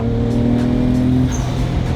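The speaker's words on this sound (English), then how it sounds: "All those like little backfires" A Nissan Skyline R33 GTR engine revving hard with small crackling backfires, a loud close throaty drone that rises and falls, with no talk over it.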